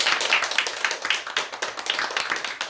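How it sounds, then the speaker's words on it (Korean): A church congregation claps together in a quick, fairly even rhythm, close and lively, with sharp individual claps standing out from the group. "우리 모두 다 힘내시라고 우리 박수로 한번 하나님께 응원해"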